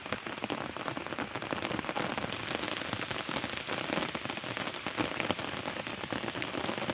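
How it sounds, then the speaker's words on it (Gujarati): Steady monsoon rain falling on an open rural grazing spot where cows shelter under neem trees, a dense continuous patter of drops on surfaces with no talk. "જોઈ શકો છો વરસે છે."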